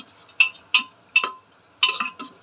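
Meat with whole cardamom, a little oil and water going into a pressure cooker for a meat-and-bottle-gourd curry: five or six sharp metallic clinks and knocks in small clusters, close and fairly loud, with no talk.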